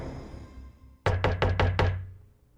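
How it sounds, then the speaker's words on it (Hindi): Five quick, firm knocks rap on a flat's door late at night, evenly spaced and close, following a moment of quiet low rumble. "हमने काफी देर तक दरवाजा खटखटाया, आवाज दी, पर किसी ने गेट नहीं खोला।"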